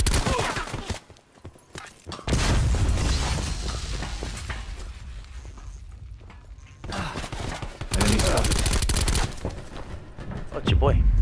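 Bursts of rapid gunfire from a Call of Duty: Black Ops 4 match come in loud dense volleys separated by quieter gaps, with players talking faintly in between.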